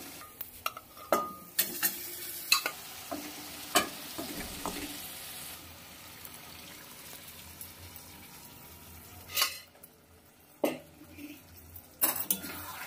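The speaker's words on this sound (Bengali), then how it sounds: "ভালো করে মাংসটাকে এর সঙ্গে এর মধ্যে ভালো করে মিশিয়ে নিচ্ছি" Cooked mutton is stirred into masala in a pan, with soft sizzling under scattered scraping and clinking of a spoon against the metal, in irregular strokes.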